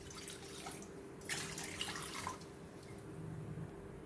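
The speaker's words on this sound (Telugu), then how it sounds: "ఒక చిన్న గ్లాస్ నిండా నీళ్లు పోసుకుందాము." A small glass of water poured into a kadai on a lit stove while making tomato chutney, a soft, faint splash and trickle lasting about a second in a quiet kitchen.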